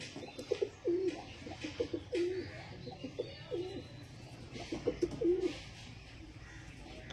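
Paired pigeons coo in repeated low, throaty phrases close by, several rounds rising and falling over faint background noise, with no talking.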